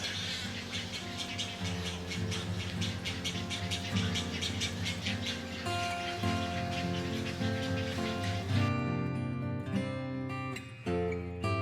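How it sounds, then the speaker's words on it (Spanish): Parrot fledglings squawk and screech in a frantic, continuous chorus as they beg to be fed, loud and close, with the calls thinning toward the end. "se produce un gran frenesí, cuando los pichones demandan ser alimentados"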